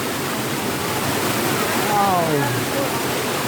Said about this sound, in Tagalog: Meron siyang tunnel na pinanggagalingan ng tubig.